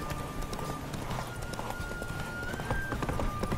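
Horse hooves galloping at a steady clip-clop rhythm while riding in The Witcher 3 video game, fairly loud and continuous over music and game ambience.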